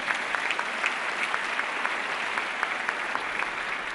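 A conference auditorium audience breaks into applause for a bestselling author on a panel, a dense, even roar of many hands clapping throughout, sustained and moderately loud with no speech.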